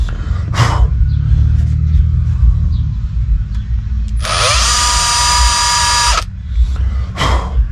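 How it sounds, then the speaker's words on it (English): A power drill whirs steadily for about two seconds, boring a 1/16-inch hole during door panel work on an 1988–1994 Chevrolet pickup, against a low background rumble, with short clicks and knocks before and after. "drill a little 16th inch hole"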